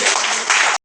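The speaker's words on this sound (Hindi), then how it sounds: "तो एक बार बहुत शानदार तालियां हो जाए अपने" A brief burst of loud audience applause at a marketing seminar, dense clapping in two swells that cuts off abruptly after under a second.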